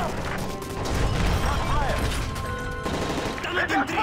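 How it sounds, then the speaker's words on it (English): Rapid bursts of gunfire aboard a plane in the Modern Warfare 3 video game, loud and continuous with crashing impacts and mechanical clatter, amid chaotic background shouting. "That's gunfire! Hijackers are taking the plane!"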